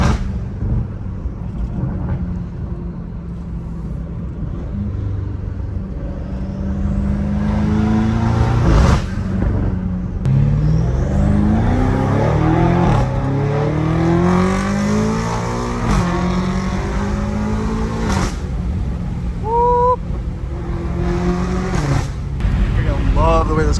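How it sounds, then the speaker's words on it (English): Catless BMW M5 Competition on a street drive, its exhaust rising and falling through repeated hard revs and gear changes with loud rasping pops, heard from inside the car with a voice speaking over parts of it. "Love the way this car sounds, man."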